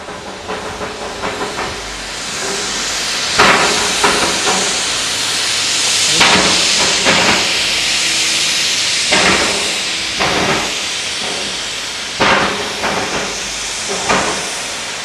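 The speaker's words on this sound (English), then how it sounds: "with steam literally exploding from her cylinders, she sadly lost adhesion and came to a shuddering halt" A steam locomotive stalled on a 1-in-40 incline after losing adhesion, hissing loudly from its cylinders in long, roaring bursts that swell and fade repeatedly, close by and without talk.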